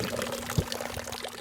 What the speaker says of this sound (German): Das Plätschern des Brunnens vor dem Haus, es ist ein wichtiges Geräusch